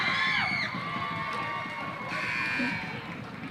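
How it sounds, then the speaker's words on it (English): A home crowd at a 1997 high school boys basketball game between Nokomis Regional and Hampden Academy roars and shouts steadily during a Hampden free throw, a dense wall of voices with whistle-like shrieks, while a commentator talks over it. "The crowd trying to shake the Hampden players at the free throw line"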